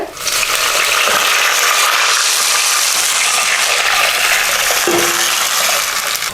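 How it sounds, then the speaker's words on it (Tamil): Tomato rasam pours steadily into a hot pan, a continuous loud hiss and sizzle with a faint tap-like splash, no voices. "இப்போ கரைச்சி வச்ச ரசத்தை இதிலே ஊற்றிடலாங்க"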